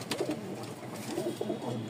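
A pair of gorra pigeons coos softly and repeatedly in low, rolling calls, close by and steady, with no one talking.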